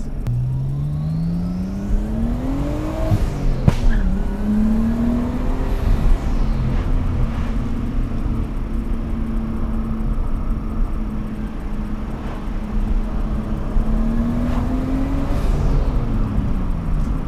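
A Nissan R32 Skyline's 2-liter six-cylinder engine revs and pulls through rising and falling notes, a smooth, fairly quiet hum with a sharp knock early on and no talking.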